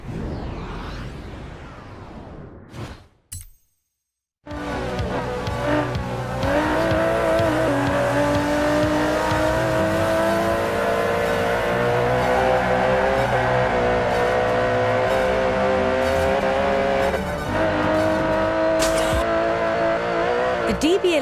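An Aston Martin DB11 with a 5.2-litre twin-turbo V12 races in the video game Forza Horizon 4. After a brief silent gap the engine roars in loudly and holds a sustained high rev, with tire and whoosh noises over the drone.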